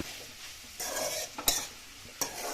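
A spoon stirs eggplant curry in a pot with a few sharp scraping clacks against the metal over a faint background sizzle, close and fairly quiet, without talk.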